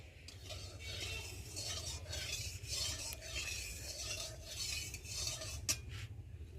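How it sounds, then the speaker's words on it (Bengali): A metal spatula stirs and scrapes through oil in a hot wok, a soft continuous rasping with faint clinks of metal on metal, steady and close, with no voices. "আর এখন খুন্তি দিয়ে একটু নেড়ে দেবো।"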